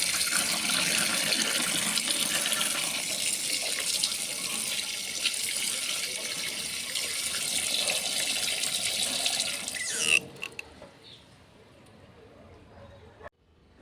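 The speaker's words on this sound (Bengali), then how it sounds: "আমি কিন্তু এই বেসিনের মধ্যে মাছগুলো ভালোভাবে ধুয়ে নিচ্ছি।" Rohu fish are being rinsed in a basin under a running tap, a steady close gush of splashing water for about ten seconds before the flow stops, leaving a few faint drips and handling noises.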